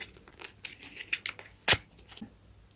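Lip balm packaging torn open by hand: scattered crinkles and small rips of plastic or foil, with one sharp loud tear near the middle, close up and without talk.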